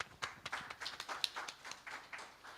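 An audience at an agricultural summit applauding, scattered hand claps with an uneven rhythm, moderately faint and heard without any talking over it.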